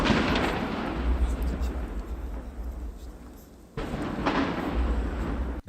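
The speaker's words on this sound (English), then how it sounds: "The historic and colorful 80th anniversary commemoration began with the sound of cannons" Ceremonial cannon salute at an 80th anniversary commemoration in Beijing: two heavy, distant booms, each followed by a long rolling rumble that fills the air, the second arriving after a brief dip.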